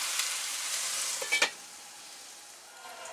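Chopped banana stem (thor) sizzles softly in a pan as it is stirred, with a brief scraping clatter of the spoon near the middle before the frying settles to a quieter hiss.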